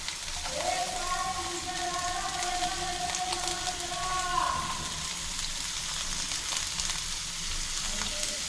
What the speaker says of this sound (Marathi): त्यानंतर त्यामध्ये कांदा घालायचा आहे कांदा थोडा भाजून घ्यायचा आहे